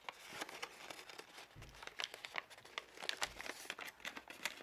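A paper flap on a folded craft module is tucked into a pocket and folded over, producing soft, close crinkling and rustling with a few quick creases and taps, quiet and without talk.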